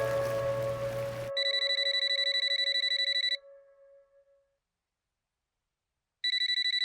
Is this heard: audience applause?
no